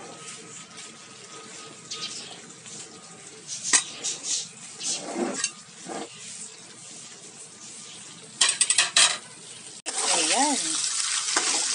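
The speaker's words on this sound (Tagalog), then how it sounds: "nagisa na natin ang ating pork" Pork for menudo sautéing in a pan, a close, uneven sizzle with intermittent stirring scrapes and clatter, and a brief louder burst of frying near the end; a voice speaks briefly.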